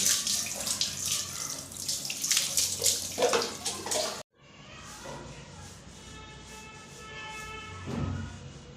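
Hot water poured from a bucket or tap during a bath, a steady close splashing stream that stops briefly, then resumes as softer running water with faint voices in the background.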